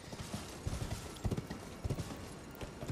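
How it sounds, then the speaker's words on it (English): A horse's hooves clip-clop in Elden Ring. An irregular run of fairly soft hoofbeats is heard over a quiet game ambience. "oh, it's the horse"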